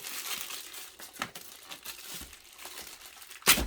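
Soft crinkling of a plastic bag holding a GoPro HERO9 Black bundle, in short bursts close to the mic, ending with a louder sharp rustle.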